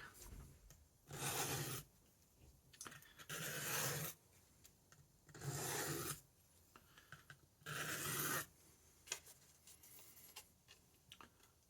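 A kitchen knife is rubbed across a 400 grit sharpening stone in four steady rasping strokes, each about a second long, with short quiet pauses between them. The strokes are close and moderately loud, with no talking.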